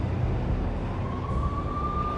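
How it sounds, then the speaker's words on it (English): Police sirens wail from the NYPD closing in on a sleazy slum hotel in the video game Max Payne, a steady rising tone sustained over a dense, loud ambient rumble with no talk. "I could hear the sirens. Their wail was a crescendo."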